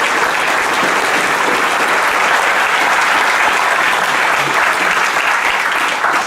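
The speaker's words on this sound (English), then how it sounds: "Let's give him a round of applause." Sustained applause from an audience at an evening open-mic community gathering about plans for Thomas Square, a steady dense wash of clapping lasting throughout with no talk on top.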